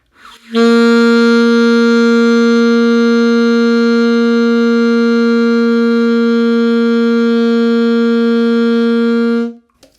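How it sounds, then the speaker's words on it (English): One sustained saxophone note held steady and loud for several seconds, with no wavering in pitch or volume, then released. "Holding a long tone is just playing one note without any shakes or volume changes or intonation changes."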